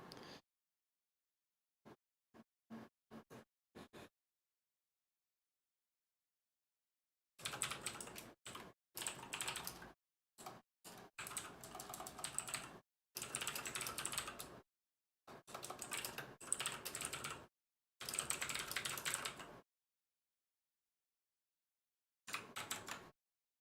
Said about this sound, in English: Just type that again.